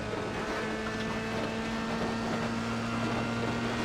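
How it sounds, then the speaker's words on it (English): A damaged F3 race car with its front wing missing, driven in a racing video game at Fuji, its engine droning steadily with a constant tonal hum and wind-like rush throughout, no voices present. "I will drag this broken car over the line"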